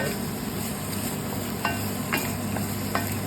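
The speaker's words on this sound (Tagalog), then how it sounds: "Ayan, stir fry lang natin to." Ginger stir-fries in a little water for fish teriyaki, a steady close sizzle and bubbling with several scraping strokes of a spatula across the pan.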